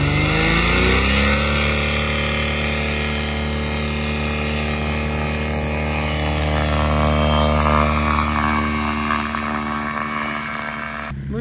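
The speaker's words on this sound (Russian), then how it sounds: "По идее, мой двигатель достаточно мощный у Януса." The engine of a Janus glider runs steadily before takeoff on hot asphalt, a loud continuous drone with a faint slow rise in pitch throughout.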